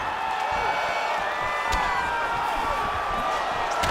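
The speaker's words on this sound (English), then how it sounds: "they can take in the applause because they deserve it after that grappling exchange" A crowd cheers and applauds steadily in the UFC 5 video game, a dense roar of many voices with occasional sharp impacts, sounding like a broadcast arena audience.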